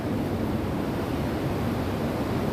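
Ocean surf rolls onto Double Six Beach in Bali, a continuous broad wash of breaking waves with steady wind noise and no voices.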